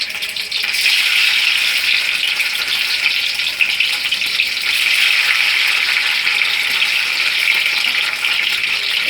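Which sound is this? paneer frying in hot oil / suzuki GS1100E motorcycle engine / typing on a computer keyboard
paneer frying in hot oil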